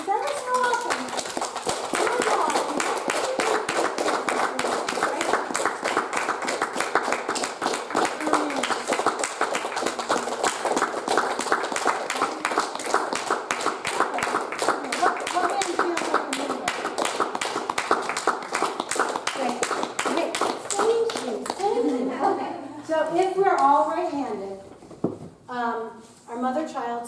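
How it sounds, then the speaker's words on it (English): Rapid, steady hand clapping from a group during a clap test at a Body Bliss wellness retreat, continuing for about twenty seconds before fading out as voices start talking. "Let's do a quick clap test."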